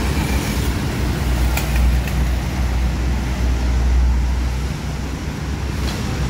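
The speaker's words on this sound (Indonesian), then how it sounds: "Lalu lintas terpantau ramai lancar." Busy road traffic in Palembang, Indonesia, a constant loud roadside rumble of passing vehicles with wind buffeting the microphone and a couple of faint clicks, no voices.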